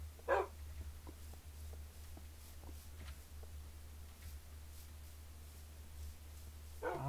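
Minecraft puppy whimpering with soft yips, a faint bark near the start and another at the end, quiet over a low steady hum.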